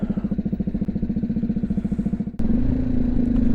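A BMW G310GS single-cylinder motorcycle with a Remus aftermarket exhaust thumps in a fast, even rhythm at close range, then revs up into a steadier, louder drone.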